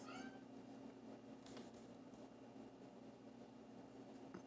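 A cat meows and howls at a door in a house, faint and somewhat distant against a quiet indoor background, with a short cry near the start.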